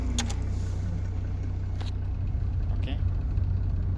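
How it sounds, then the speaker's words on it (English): An automatic car sits idling in park with its engine running, a low steady rumble close by, while someone talks over it and a few light clicks and rustles occur. "So I've started the vehicle right now, okay, and it is in P"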